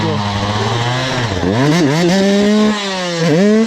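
KTM motorcycle engine revving hard in deep snow, a loud sustained buzzing roar whose pitch dips and surges several times, with people talking close by.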